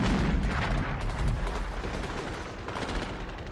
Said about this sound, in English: the Marines respond with just blasting the area with fire